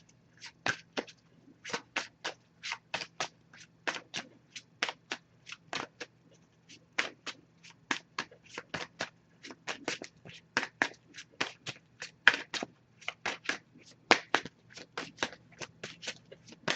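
An oracle card deck is shuffled up close at a quiet level, with quick riffling bursts of papery flicks and slaps arriving in uneven clusters separated by short pauses.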